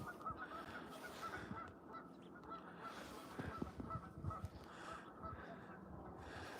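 Many geese or ducks call and honk continuously from a large flock at Middle Creek Wildlife Management Area during a snowstorm, a dense overlapping chorus of far and near birds with no talking.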